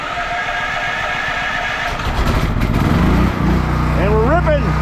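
A portable generator engine runs steadily outdoors during an ice storm, a loud continuous mechanical drone after an electric start, with a rising whine near the end.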